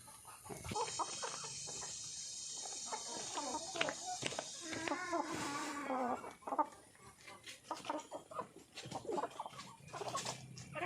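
Several chickens cluck and squawk close by, irregular bursts over faint background noise and rustling.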